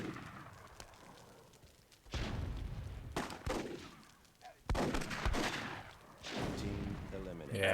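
Grenades explode in Myth II Soulblighter, a WWII-themed tournament match, with several heavy booming blasts and rumbling tails spread across a few seconds. Voices talk over the explosions.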